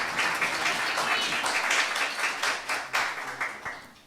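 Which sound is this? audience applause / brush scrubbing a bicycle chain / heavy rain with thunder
audience applause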